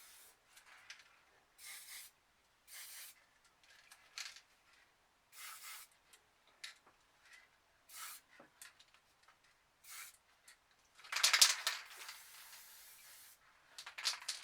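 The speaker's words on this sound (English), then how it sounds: "we're just going to spray the white paint here in the middle where the hole is" White spray paint sprayed from a can through a hole in a card stencil: a series of short, soft hissing bursts, about a dozen spaced apart, with a longer, stronger spray near the end.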